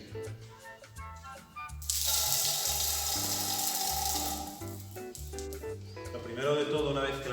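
Asturian cider is poured from a height into a glass, a rushing splash lasting a few seconds over a voice talking.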